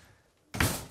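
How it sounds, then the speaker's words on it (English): A Jeep door is swung shut in a single solid thunk with a brief rattle after it. The shut is close and loud after a moment of near quiet. "All right, let me shut this door."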